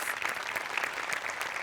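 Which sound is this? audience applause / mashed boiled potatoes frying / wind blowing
audience applause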